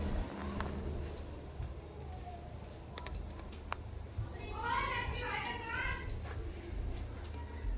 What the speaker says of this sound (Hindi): बच्चे बाहर हैं मेरे, बाहर अभी खेल रहे हैं